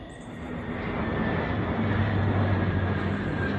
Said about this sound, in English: Man, the air traffic going over me here is incredible.